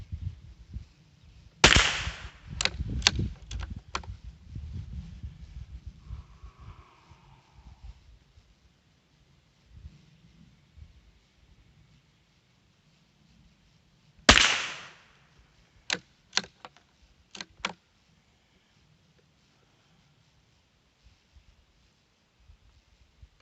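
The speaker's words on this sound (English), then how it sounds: "I'm going to shoot at the top point of the center diamond" A Savage Mark II .22 LR bolt-action rifle fires two sharp, loud shots about twelve seconds apart. Each shot is followed by a few quick, faint clicks of the bolt being cycled, with near silence in between.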